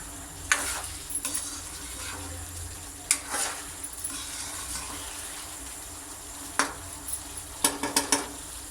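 Chicken fries in a karahi with tomato paste and ginger slices, a steady low sizzle broken by scattered sharp scraping and stirring clatters of a utensil against the pan.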